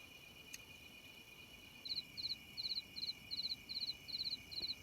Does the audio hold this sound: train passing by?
no